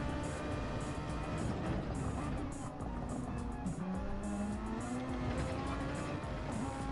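Vintage Formula One race cars in the Grand Prix Legends sim race through a tunnel section at Deep Forest, a dense continuous engine roar with whining revs and tire noise throughout.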